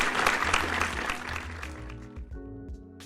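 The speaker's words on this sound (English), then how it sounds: "Let's have another round of applause for the news." A podcast studio audience gives a short burst of applause that fades out within a couple of seconds, leaving faint tonal sounds behind.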